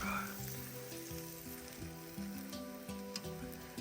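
A sandwich fries in butter in a hot pan, giving a steady close sizzle throughout while a low droning tone plays underneath.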